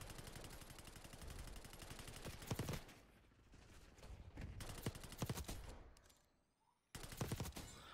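Rapid automatic gunfire in a shooting video game, long continuous bursts of fast shots with a short lull and a near-silent gap before firing resumes, loud and close.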